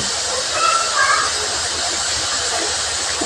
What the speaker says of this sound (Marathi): तेल गरम करून त्यात मोहरी एक सुके लाल मिरच कढीपत्ता